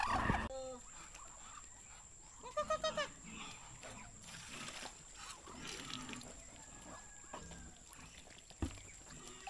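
Ducks quack in a quick burst of repeated calls amid faint farmyard background, a few scattered sounds and brief talk around them.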